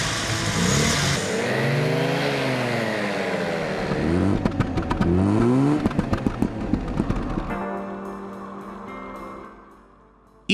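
An NSU Ro 80 with a 115 horsepower two-rotor Wankel engine drives past, its smooth engine note rising and falling through gear changes, loud and close, before fading away near the end.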